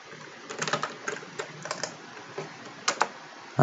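Keys on a computer keyboard clatter in short irregular bursts, close and fairly crisp, with pauses between the clusters and no talk.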